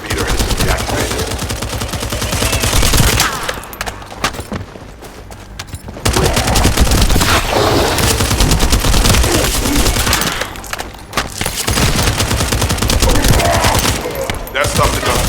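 Rapid automatic gunfire from The First Descendant video game, loud and sustained bursts with two brief lulls where the shooting drops away before resuming.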